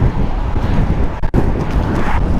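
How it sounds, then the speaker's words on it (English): Strong outdoor wind buffets the microphone with a low, rumbling roar. It fades briefly in the middle and then gusts back loudly. "It is windy, it's moving me around a lot."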